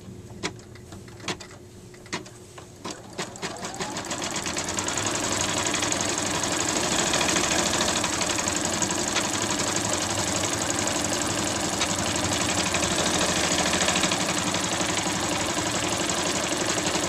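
An embroidery sewing machine stitches a plush Easter egg in a hoop: a few separate clicks and needle taps at first, then a steady, loud, fast mechanical hum with a rapid needle rhythm running alone to the end.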